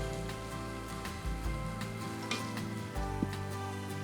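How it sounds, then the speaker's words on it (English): Chicken and vegetables sizzle steadily in a hot pan, a constant crackling hiss with occasional clinks of stirring, no talking. "nice sizzle. And sizzle it does"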